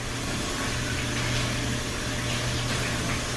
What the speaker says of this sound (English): Alright, washing our sausages off.